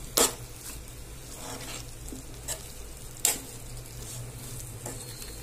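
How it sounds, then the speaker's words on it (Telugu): A spoon stirs sambar and sambar powder in a pan over a soft, steady sizzle, with a few sharp scrapes and clinks against the metal standing out close by. "సాంబార్ పౌడర్ వేసుకుంటున్నాను అది కూడా బాగా కలబెట్టుకోవాలి"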